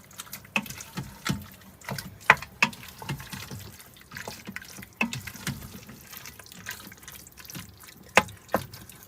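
Water poured from a cup into an Instant Pot for meatless chilli, heard as close splashing and dripping with irregular trickles and small splashes over several seconds.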